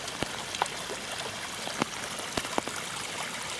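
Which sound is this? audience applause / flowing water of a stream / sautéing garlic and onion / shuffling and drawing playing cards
flowing water of a stream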